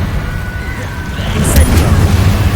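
A Confringo fire-blast spell erupts in Hogwarts Legacy as a low, rumbling boom that swells midway and lingers, with a faint hiss above and a voice speaking nearby.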